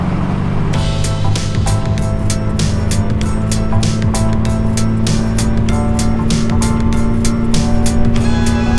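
A Jaguar E-Type Series V12 Roadster being driven, its engine drone loud and steady with a strong low hum, overlaid by rapid rhythmic mechanical clicks or wind buffeting throughout.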